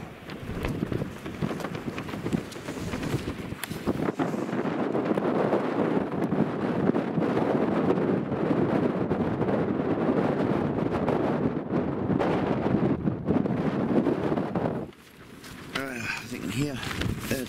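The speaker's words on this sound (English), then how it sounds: "It's windy." Strong wind buffets the microphone at a wild camp on the mountain Mellbreak on an April morning, a loud continuous roar that dips briefly near the end, with a person speaking over it.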